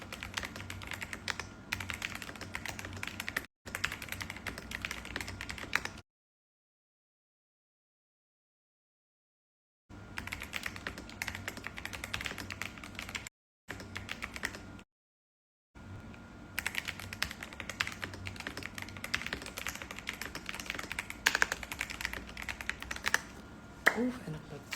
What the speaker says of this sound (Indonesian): Lagi ganti-gantian keyboard keycaps.